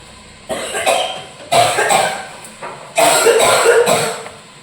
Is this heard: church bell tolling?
no